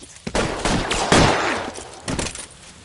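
Rapid bursts of gunfire in the L.A. Noire video game during a 211 shootout with police. Several loud cracks come in quick clusters, with a short lull before a final burst.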